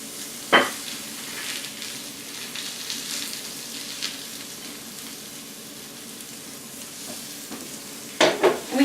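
Zucchini frying in a pan, set around its edge, gives a steady soft sizzle with a sharp clatter near the start and a few louder bursts of stirring at the end.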